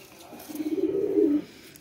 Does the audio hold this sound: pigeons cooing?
yes